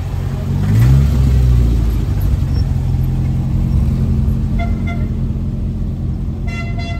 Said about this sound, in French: 911 cabriolet.